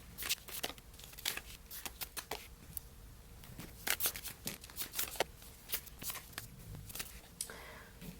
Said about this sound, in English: I'm going to lay these cards out and get started